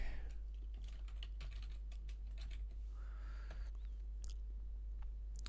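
Rapid, irregular keystrokes on a computer keyboard, close and fairly quiet over a constant low hum, with scattered louder clicks throughout.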